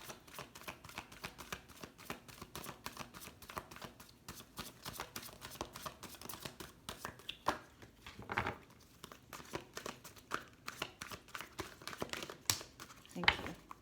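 Tarot cards being shuffled by hand, a quiet, continuous run of crisp riffling and crinkling rustles with irregular louder flicks, close by.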